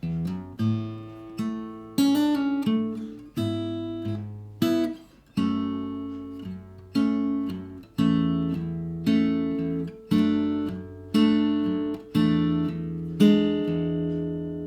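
Electric guitar plays the chord-based riff of a song slowly and evenly, each strum ringing out in a steady pulse, with no other instruments or voices.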